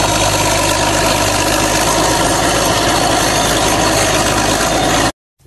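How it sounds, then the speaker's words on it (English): A bulldozer engine runs loud and steady, with a deep vibrating idle-like drone that holds for about five seconds and then cuts off abruptly. "Bulldozer."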